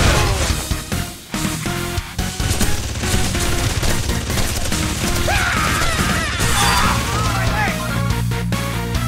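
Rapid gunfire and crashing blasts from the Contra video game, dense and continuous over a driving music track, with a spoken voice coming in partway through.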